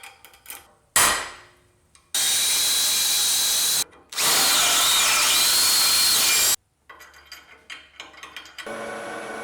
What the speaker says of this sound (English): I can now drill the holes for the mounting bolts